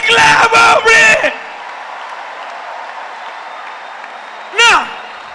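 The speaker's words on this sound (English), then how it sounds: "Give Jesus a clap of praise." Congregation applause in praise at a live church service rises as a diffuse, sustained wash of clapping after loud shouted voices, then a single shout breaks through near the end.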